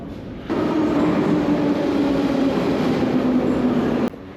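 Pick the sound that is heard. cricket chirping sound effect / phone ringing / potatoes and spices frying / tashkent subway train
tashkent subway train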